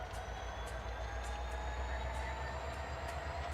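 A model Frisco EMD GP15 locomotive with a TCS WOW Sound decoder idles and moves as yard power on a layout. It makes a steady low diesel rumble with a soft rhythmic pulse and faint high clicks, quiet and continuous.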